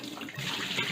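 Rendered tallow and water pour over a baking rack into a kitchen sink in a short, steady, close splashing gush, with no voices.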